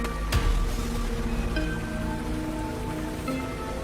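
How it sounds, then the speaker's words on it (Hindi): Heavy rain pours down in a dense, steady hiss of drops hitting surfaces, loud and unbroken throughout with no voices. "बारिश तेज होती जा रही है।"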